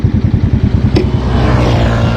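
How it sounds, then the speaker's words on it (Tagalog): A stock muffler on a Euro Motor Peak 110 motorcycle putters at idle, a steady close low-pitched thumping pulse that briefly sharpens into a short rev before settling into an even, slightly louder drone. "ipaparinig ko guys yung stock muffler"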